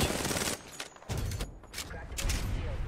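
Rapid bursts of automatic gunfire in a first-person shooter video game crackle in quick volleys separated by short pauses, loud and close, with faint voices in the mix.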